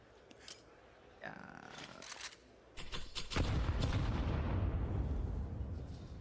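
Counter-Strike 2 match action: a few sharp, distant gunshots and clicks, then a heavy grenade blast that swells into a loud, sustained rumbling roar before easing off slightly.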